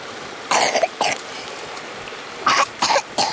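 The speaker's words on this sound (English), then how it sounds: "You have a cough" Two short bursts of coughing, each with two or three harsh hacks, close by, separated by a quiet pause.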